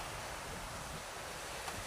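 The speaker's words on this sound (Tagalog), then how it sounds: "Malakas pa rin ang hangin, may alon pa rin." Strong wind and sea waves at a shore, a steady broadband roar of surf with wind buffeting the microphone, continuous and fairly loud throughout, with no voices.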